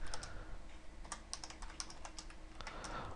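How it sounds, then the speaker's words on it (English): Keys clatter on a computer keyboard in quick, irregular clicks, close and fairly quiet, with short pauses between bursts and no talking. "let me finish typing this out here"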